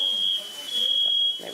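Home kitchen smoke alarm set off while cooking Thanksgiving side dishes, sounding a shrill, steady high-pitched tone with a brief gap, close and loud, while a voice speaks underneath.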